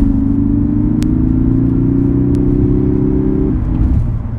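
A 2016 Lexus IS300h hybrid's four-cylinder engine hums steadily at a low, even pitch, close and fairly loud, then drops slightly near the end.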